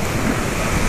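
Waterfall in the Wadi Mujib canyon in Jordan, a loud, steady broadband roar of rushing water that fills the short moment close by, with no voices over it.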